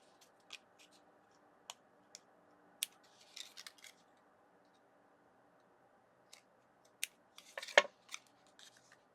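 Scissors trimming paper scraps for a small artist trading card: sparse, quiet snips and light paper rustles scattered across a near-silent background, with a slightly louder cluster of cuts near the end.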